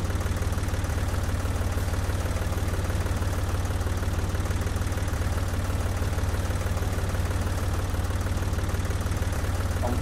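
A tractor engine idles in the video game Farming Simulator 2014, giving a steady, dense, unbroken low rumble with a constant level throughout. No one speaks.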